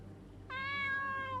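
A single drawn-out cat meow inside a horror video game made in RPG Maker, rising from a low hum of background drone and holding steady for about a second alone.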